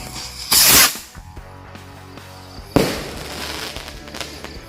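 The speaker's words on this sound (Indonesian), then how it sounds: "kita sumet mercon roket jumbo" A blue jumbo rocket firework launches with a loud hissing whoosh, followed after about two seconds by a second burst of crackling and fizzing that tails off outdoors at a New Year celebration.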